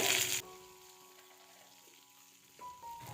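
Cashews and curry leaves roasting in hot oil for a chicken curry, a loud burst of frying at the start easing into a quieter, steady low sizzle with faint stirring.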